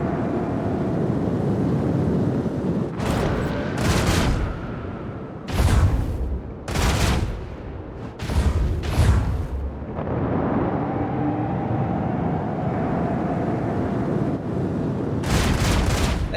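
Heavy torpedo blasts strike ships in space combat in Warhammer 40,000: Rogue Trader, about seven booming, rumbling explosions arriving in uneven clusters over a low drone, loud and close.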